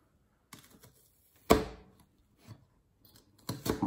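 A kitchen knife slices through an onion and rosemary on a cutting board, giving a few scattered soft cuts, one sharp loud chop, and a quick burst of cuts at the end.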